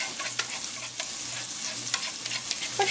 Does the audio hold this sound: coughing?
no